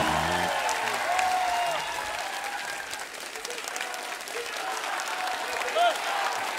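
A studio audience at a comedy talk show applauding a film star's entrance, dense sustained clapping and crowd noise throughout, with a voice and a few whistles mixed in.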